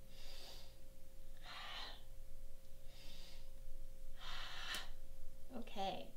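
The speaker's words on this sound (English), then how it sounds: "Breathe in." During a guided breathing exercise, a person draws in and lets out deep, airy breaths, several rhythmic swells spaced about a second apart, close and clear over a low steady hum.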